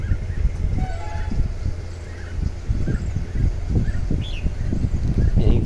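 Birds, including an Asian koel and a bulbul, call on an afternoon heard from indoors. The scattered chirps and calls are faint and distant over a steady low background rumble.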